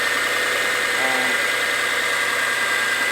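A car engine with 200,000 miles on it idles with a steady, smooth, even hum close by. The drone is continuous with no obvious knocking.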